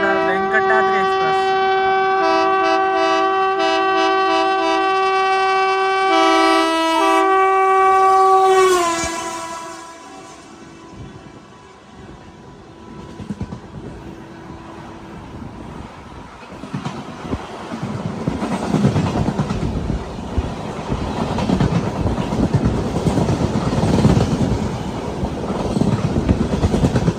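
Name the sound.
Chittoor Kacheguda Venkatadri Express train passing at crossing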